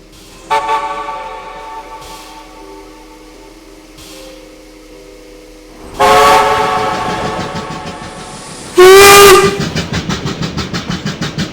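Steam tank engine whistle giving several loud blasts, one long and a final sharp one, followed by rhythmic chuffing as the train sets off, close and dominant.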